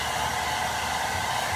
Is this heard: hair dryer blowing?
yes